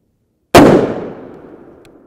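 A single loud, sharp rifle shot from a 7.62x51mm (.308) 168gr OTM Match round, close by, with a sudden crack followed by a long decaying rumble and no talking.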